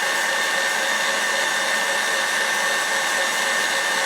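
An electric hand mixer whips egg whites with sugar for a Biscoff cake, giving a loud, constant high motor whir that stays unchanged and uninterrupted, with no talk.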